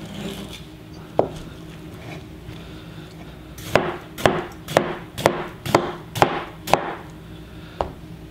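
Knife slicing through a watermelon to cut it into cubes, a regular run of about eight crisp cutting strokes near the board, preceded by a few scattered softer cuts.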